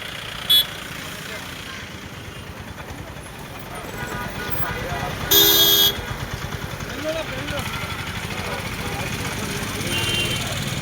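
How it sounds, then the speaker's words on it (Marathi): Traffic jam on a market day at Mandavgan Pharata, with heavy vehicles crawling past. A constant rumble of engines and motorcycles carries a few short, sharp horn toots, with one louder blast in the middle, and voices murmur underneath. "मांडवगण फराटा येथे पुन्हा वाहतूक कोंडी"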